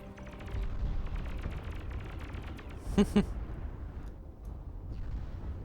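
T1 artillery firing in the game Beyond All Reason, a rumbling barrage of booms with two sharper blasts standing out in the middle, under a continuous low roar of battle.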